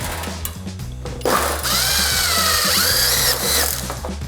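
A SKIL 12 volt impact driver running at top speed, driving fasteners into two pieces of 20 gauge metal, with loud, continuous rapid hammering and a rising whine as each fastener seats, heard alone and up close.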